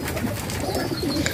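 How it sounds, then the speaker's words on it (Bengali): High-flying pigeons at a farm coo in a brief, close burst of soft, throaty calls overlapping one another. "দেখেন এখানে বিভিন্ন জাতের হাই ফ্লাইং কবুতর রয়েছে।"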